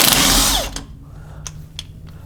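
A power tool, likely an impact driver or drill, spins a 19 mm castle nut off a steering stabilizer mount on a 2004 Jeep TJ Wrangler. A loud whirring burst gives way to a few faint clicks and rattles.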